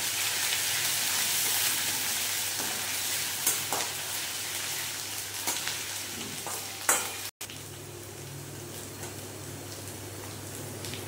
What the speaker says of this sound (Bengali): এবার বন্ধুরা দিয়ে দেব পেঁয়াজ রসুন বাটা, এই আদা রসুন বাটা।